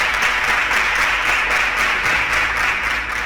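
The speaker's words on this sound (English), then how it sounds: "Please, a round of applause for all of them." Studio audience applauding contestants on a Nigerian quiz show, a steady dense wash of clapping throughout, fairly loud with no talking over it.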